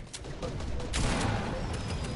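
Rapid gunfire from the video game Fortnite, a dense continuous burst of shots over a couple of seconds, loud and close, with faint voices in the background.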